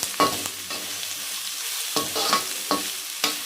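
Tomatoes fry in a hot pan for a Davangere-style mandakki dish. A steady sizzle runs underneath, with several sharp scraping stirs at irregular intervals.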